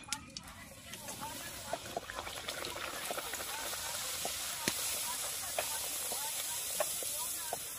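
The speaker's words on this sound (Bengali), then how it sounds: "এবার আমি কচুরিটা ভেজে নেব।" Kachori made with pea filling fries in a pan of hot oil, giving a steady hiss with scattered soft pops and crackles throughout.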